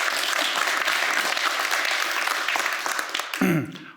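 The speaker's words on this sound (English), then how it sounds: "Applause, please, for Peter." Audience at a tech product premiere clapping, a dense sustained round of applause that fades near the end as a voice briefly starts.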